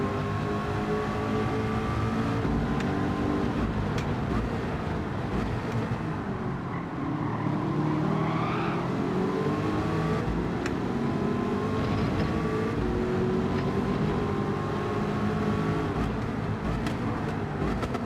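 Several Ford GT race cars in a Gran Turismo lobby race, engines droning and shifting pitch continuously at steady loudness throughout, with no talking over them.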